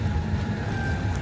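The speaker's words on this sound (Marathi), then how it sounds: "चालली ना भाऊ रेलगाडी." A passenger train runs at night, heard from inside the last coach as a steady, loud low rumble and rhythmic rattle with no talk.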